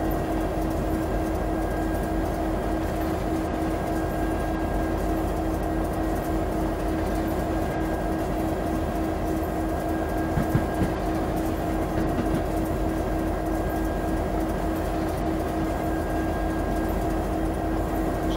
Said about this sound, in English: time to get this monstrosity of a train slowed down